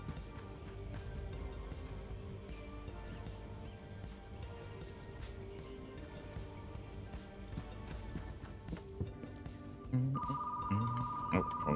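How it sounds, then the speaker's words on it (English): A telephone rings in a video game, a repeating electronic trill that starts near the end over steady game background noise and music. "Oh, phone call."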